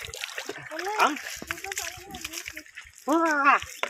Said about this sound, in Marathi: काय पाणी उडवलंस?